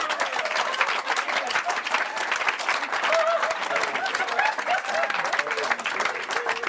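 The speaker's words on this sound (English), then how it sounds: "Give Bruce a big round of applause." A crowd applauds a volunteer named Bruce at a hypnosis show, with dense, steady clapping filling the room at close range, unbroken from start to finish.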